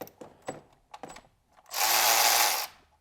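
Milwaukee cordless ratchet running in one steady buzzing burst of about a second, close and loud, after a few short clicks and handling taps.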